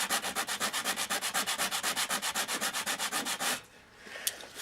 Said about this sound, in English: this PVC coated Foamex board has a film on it, and that's what we're sanding off